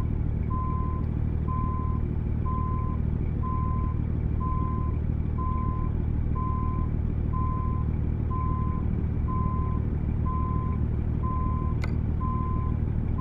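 In American Truck Simulator, a truck backing a trailer sounds its reversing alarm: a steady, evenly spaced beep, about two per second, repeating over a constant low engine rumble.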